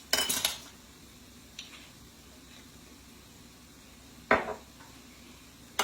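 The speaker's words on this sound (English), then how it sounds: "We're going to mix this all together." Chicken fried rice being stirred in a pan, with a few sharp metal utensil clinks and scrapes against the pan separated by quiet gaps and a soft background hiss.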